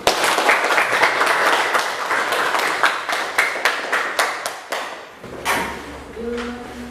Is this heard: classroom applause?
yes